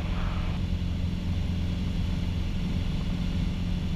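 Piper Arrow light airplane engine at full throttle climbing after takeoff, a loud steady droning roar heard from inside the cabin, continuous and unbroken.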